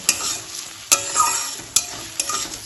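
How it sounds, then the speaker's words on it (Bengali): Two medium chopped onions stirred and fried in oil: a soft steady sizzle broken by four sharp, close scraping strokes of a spatula against the pan, evenly spaced, with no talking. "পেঁয়াজটা তেলের সাথে একটু নাড়াচাড়া করে নেব"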